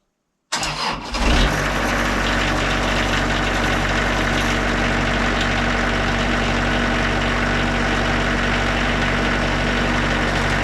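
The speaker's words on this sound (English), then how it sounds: "to do the initial spin, I'll start the mill and I'll just pull the handle really slowly." The engine of a Wood-Mizer LT40 Super Hydraulic sawmill cranks over and catches after a brief silence, then settles into a loud, steady, close-up running drone with no voices.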